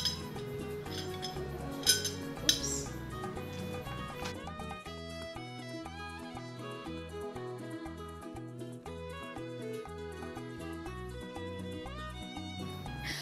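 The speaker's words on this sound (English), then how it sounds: "I'm also putting down my bread and butter knife." A couple of bright clinks as plates and cutlery are set down on a breakfast table, heard early on beneath steady background music that continues alone afterwards.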